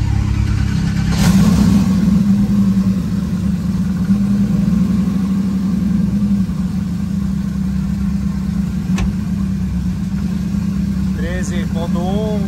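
Car engine cranking to life, then idling and revving steadily with a deep, loud rumble, while people talk nearby.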